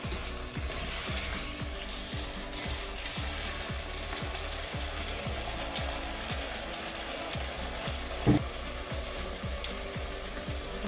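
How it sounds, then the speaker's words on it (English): Vegan curry sauce simmers and sizzles steadily in a pan after a little water is added, with a soft continuous frying hiss and one brief clink of the stirring spoon near the end, close and moderately quiet, no talking. "Add a little bit of water to it."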